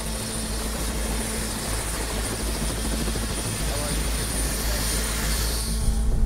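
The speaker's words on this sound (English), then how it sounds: "So we're gonna take you up on a helicopter." A helicopter's rotor thumps and its engine drones in a steady, loud wash heard from on board or close by, continuing unbroken throughout.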